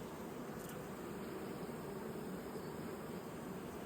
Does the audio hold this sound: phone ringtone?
no